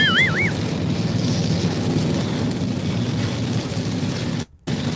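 Heavy rain pours as a dense, continuous roar of noise that stays loud and unbroken until it cuts out briefly near the end, with no talking over it.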